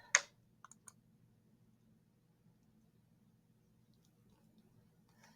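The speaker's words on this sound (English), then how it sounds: "I'm just going to go ahead and click yes." A single sharp computer mouse click comes close and clear, followed by a couple of fainter clicks, then near silence with a low background hum.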